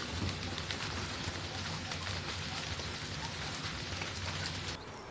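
Heavy rain drumming on a narrowboat roof, a dense continuous patter loud and close, easing slightly near the end.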